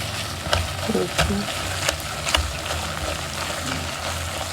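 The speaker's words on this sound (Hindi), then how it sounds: "अभी भी मैं चम्मच चला रही हूँ और इसी तरह ही चम्मच चलाते चलाते आपको ऑयल में दिखाती हूँ।" A spoon stirs halwa frying in oil, giving close scraping strokes and soft sizzling with a few sharper clinks against the pan, and no one speaking.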